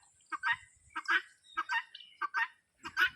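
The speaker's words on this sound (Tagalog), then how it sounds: "Mayroon din tayong Rhode Island." Rhode Island chicken on a farm in Laguna, with a bird repeating short squawking calls about five times in a steady rhythm, close and fairly loud, with no talking.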